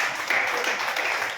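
Audience applause at a church service, a brief burst of dense clapping at moderate distance with no voices over it.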